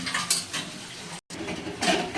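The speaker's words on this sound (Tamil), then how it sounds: "அவங்க பாத்திரம் தேய்ச்சிட்ருக்காங்க." Pots and metal vessels are scrubbed in a kitchen, with repeated scraping and clanking at an uneven rhythm, close by and moderately loud, broken by a brief gap in the middle.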